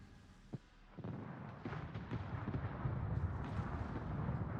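Naval gunfire in a World of Warships battle: deep booming salvos, a sharp shot followed by a heavier volley, with rumbling blasts continuing steadily under a dense battle din.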